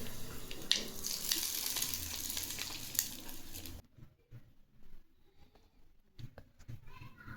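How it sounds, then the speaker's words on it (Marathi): Hot oil tempering of cumin, mustard seeds and curry leaves poured over a steamed green pea dhokla, giving a loud crackling sizzle for about four seconds that then drops to faint pops and small kitchen sounds. "ही फोडणी आता आपण या डोक्यावर टाकून घेऊ"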